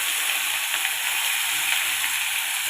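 Potatoes fry in plenty of hot oil, producing a strong, continuous sizzle and hiss that stays steady and close throughout.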